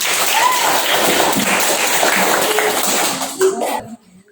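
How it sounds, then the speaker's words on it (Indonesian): A group of participants in a classroom teaching session clap their hands together, a steady dense patter of applause lasting about three and a half seconds before tapering off into quiet, with a few stray louder claps near the end. "Beri tepuk tangan dulu biar semangat."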